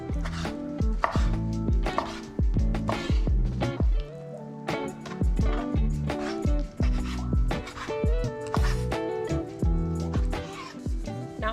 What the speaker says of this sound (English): we're going to cut these into like bite-sized strips, a little bit bigger than bite-sized